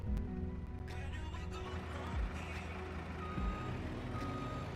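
A truck in the farming video game Farming Simulator 25 reverses, its backup beeper sounding over a loud, constant diesel engine rumble.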